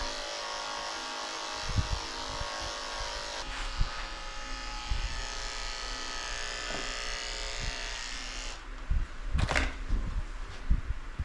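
Electric clippers fitted with a 10 blade buzz steadily while shaving the belly of a senior 16-year-old Lhasa Apso, a constant close hum with a few soft knocks and shifts in pitch as the blade moves.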